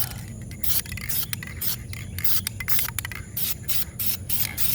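Aerosol paint sprayed from a can held upright onto the barrels of Redline wheels from a 2004 Saturn VUE, heard as a series of close hissing bursts of varying length with brief gaps between them.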